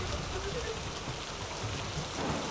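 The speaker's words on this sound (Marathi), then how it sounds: "जोरदार असा पाऊस मुंबईच्या उपनगरामध्ये झालेला दिसतोय" Heavy pre-monsoon rain falling over suburban Mumbai, a steady dense hiss of rainfall that holds evenly from start to finish, with no voices.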